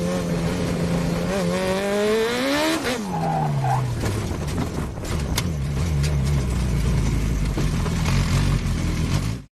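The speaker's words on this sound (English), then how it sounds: "pay attention to my right foot, very gingerly pressing the throttle and not even getting the whole way down when the car snaps" A race car on a damp track snaps into a spin under light throttle: the engine note rises and falls while the tires squeal and skid continuously, loud and close throughout.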